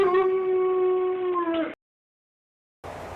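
Siberian huskies howl together in a kennel, a sustained chorus of long tonal wails lasting well over a second before breaking off into silence. A short burst of noisy kennel sound follows after the pause.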